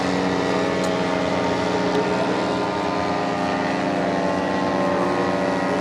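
A model airplane flies at an outdoor airshow, its engine giving a continuous, fairly loud droning buzz that holds steady throughout with no voices.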